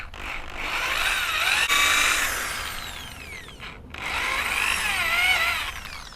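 A power drill bores holes into a Honda Sonic motorcycle part during a kick-start to electric-start conversion, two loud whining bursts of a few seconds each with a brief pause between, close up and with no talking.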